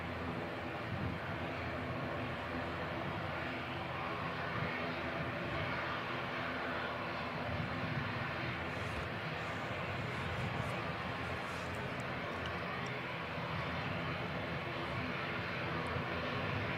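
A steady, broad roar of Jetstar airliner engines at Christchurch Airport, New Zealand, fills the whole stretch at an even level without swelling or fading. It sounds distant but constant, and no one speaks.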